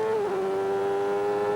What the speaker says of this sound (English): you can hear the engine revs go up